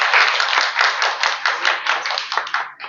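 Audience applause at a Mexican comics and manga festival panel, steady dense clapping from a crowd that thins out near the end, close and moderately loud with no talk over it.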